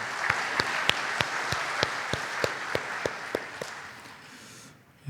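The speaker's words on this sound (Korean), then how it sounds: "하나님께 영광의 박수 하겠습니다." Clapping during a Sunday church worship service, sounding as a steady, evenly spaced rhythmic beat of hands over a soft, diffuse background, fading out near the end.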